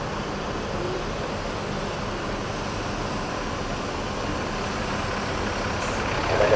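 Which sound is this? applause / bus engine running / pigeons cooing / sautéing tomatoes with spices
bus engine running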